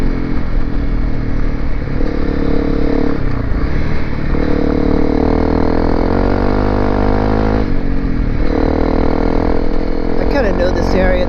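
A Honda CRF250L Rally motorcycle climbing a dirt fireroad with its rear wheel spinning, the single-cylinder engine droning loud and constant close by as revs rise and fall, with a rider's voice partly over it.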